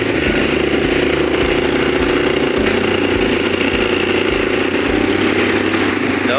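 Motorcycle engine running close by, a loud, steady rough drone that holds throughout with a slight shift in pitch partway through.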